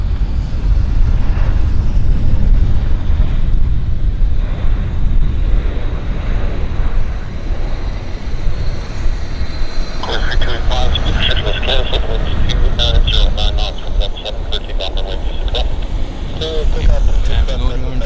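Airplanes queued at Vancouver airport awaiting departure produce a steady, broad roar of engines and wind across the whole stretch, with a person talking over it.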